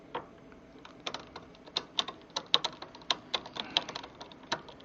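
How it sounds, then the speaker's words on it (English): The derailleur on a 2018 Rad Power RadRover electric fat bike struggles to shift gear, producing a rapid, irregular series of close, sharp mechanical clicks and ticks that cluster and repeat for several seconds. "It's trying to switch up to the next gear."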